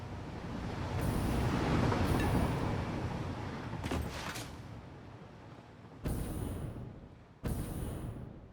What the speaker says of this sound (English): 2 trains coming.